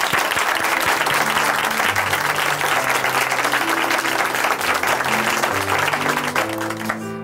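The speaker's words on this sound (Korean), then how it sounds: "우리 하나님께 감사의 박수 올려드릴까요?" Church congregation at a Korean Christian testimony broadcast applauds in thanks, a dense, steady wash of clapping filling the whole stretch, with music tones sounding beneath it and rising toward the end.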